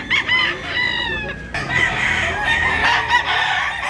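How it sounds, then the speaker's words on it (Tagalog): Roosters crow repeatedly amid clucking chickens at a busy market in Tabunok, Cebu, their calls loud and close over steady crowd noise. "Daming manok mga idol."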